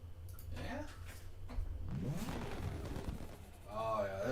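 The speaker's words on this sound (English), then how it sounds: "Oh, yeah, this one's got the crazy exhaust." A car engine in a video game revs hard through a loud exhaust, with a rising, roaring tone that swells near the end, mixed with people talking throughout.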